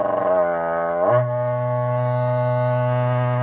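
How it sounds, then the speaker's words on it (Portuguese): A berrante cattle horn is blown at an agricultural sale: a loud, sustained buzzing blast that slides upward in pitch before settling into a steady low tone. "estão tocando berrante"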